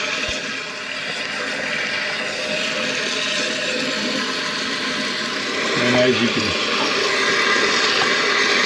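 Water rushes steadily into a toilet tank as it fills, a continuous hiss that swells slightly and gurgles near the end, with someone speaking briefly over it.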